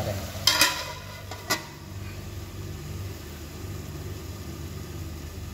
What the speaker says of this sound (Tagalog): Ayan, imekos natin para maghalo yung mantika.